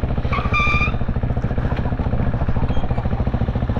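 A motorcycle at a Brighton Burn Up event roars close by, its loud engine revving with a rough, throbbing pulse as it passes, with no one speaking.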